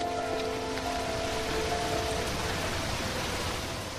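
Heavy rain pours steadily on surfaces, a dense unbroken hiss throughout, with a faint tonal hum lingering underneath at first.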